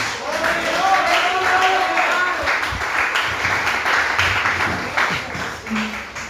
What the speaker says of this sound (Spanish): ¿Cuántos pueden dar un aplauso a Dios?